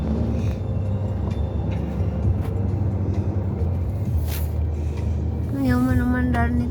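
Their own car's engine runs as a steady low rumble throughout, with a tonal voice-like sound rising over it near the end.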